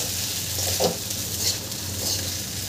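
Sabudana khichdi with peanut powder is stirred in a pan over low-to-medium heat, giving a steady soft sizzle with a few scraping strokes of the spoon, close and without talk.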